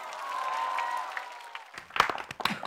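A television singing competition stage, with broadband applause and crowd noise rolling in from a large audience for a competing singer's entrance. A host's voice rises over it for a moment, then the clapping thins into scattered claps.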